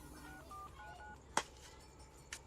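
Faint beeping telephone dialing tones, a short run of keypad tones followed by two sharp clicks, quiet against a low background hum.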